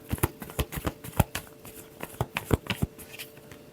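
Tarot cards being shuffled, a quick run of crisp riffling flicks and soft slaps in an irregular rhythm, close and fairly quiet with no talking.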